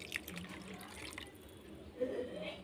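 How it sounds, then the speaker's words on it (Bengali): Water splashes and trickles from a vessel into a pot to make thukpa soup, brief light pouring sounds with a few drips, followed by a sharp knock at the end. "এখানে আমি জল দিয়ে দেবো আন্দাজ মতো"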